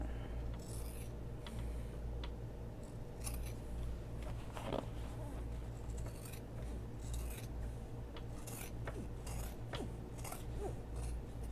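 Scissors trimming the sewn bottom seam of a fabric messenger bag, repeated soft snips and rustling of cloth over a steady low hum, close and quiet with no talk.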